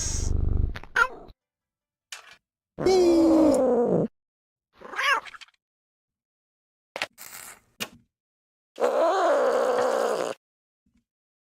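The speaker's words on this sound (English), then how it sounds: "Kitty cat." In the video game Nancy Drew: Deadly Device, a cat meows in several separate, loud, drawn-out calls close by, with silent gaps between them and a brief spoken word early on.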